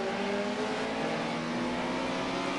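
Historic touring cars, including a BMW, racing at Oulton Park, a steady loud engine drone with droning revs from close by, no pauses.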